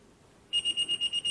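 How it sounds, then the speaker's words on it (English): An electronic alarm starts after a brief quiet moment and beeps in a rapid, steady series of high, shrill tones, close and clear. "Okay, alarm on,"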